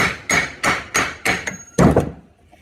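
A socket used as a driver taps a transmission seal into an '86 Toyota Tercel wagon, giving six sharp metallic knocks in an even rhythm, the last one heavier, close and loud.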